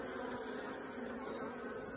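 Honeybees buzz steadily at a beehive while a swarm is being split and a second queen caged, forming a dense, continuous near drone with no talk.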